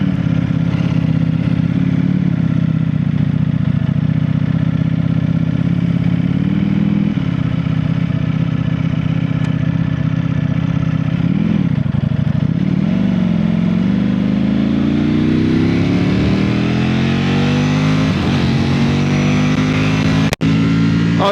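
A Ducati V4R motorcycle on a test ride from a dealership, its engine droning loud and close and rising and falling in pitch through gear changes and acceleration, with no speech over it.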